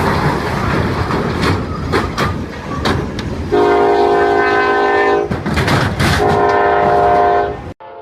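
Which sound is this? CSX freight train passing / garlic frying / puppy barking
CSX freight train passing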